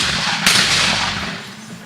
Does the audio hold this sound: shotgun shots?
yes